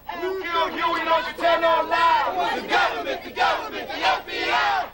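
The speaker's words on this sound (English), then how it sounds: "they took to the streets, marching and chanting" A crowd of protesters marches through the street chanting together in loud rhythmic unison, with voices rising and falling in steady cadence close by.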